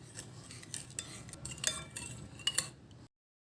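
Light clinking and scraping of a utensil stirring a soy sauce, vinegar, water and oyster sauce mixture in a pan, in quick irregular strokes, close and fairly quiet, then abrupt silence.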